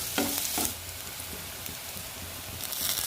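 Curry leaves sizzle as they are stirred into a ginger-garlic masala for egg masala, with a steady close frying crackle and a couple of louder stirring bursts near the start.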